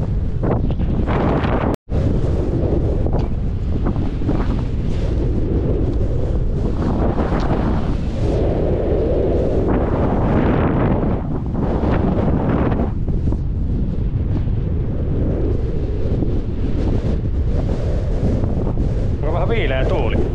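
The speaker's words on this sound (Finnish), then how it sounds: "Viileä tuuli." Strong, cool wind in Finnmark, northern Norway, buffets the microphone in loud, continuous roaring gusts, swelling and easing, with a brief cut early on.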